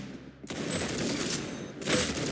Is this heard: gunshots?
yes